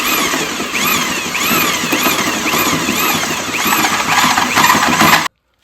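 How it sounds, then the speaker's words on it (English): A power drill whines steadily under load, with a high grinding squeal biting into the metal lower plate of a 1956 International hot rod's rear control arm, continuous and close before cutting off abruptly. "Be careful, especially with one of these drills."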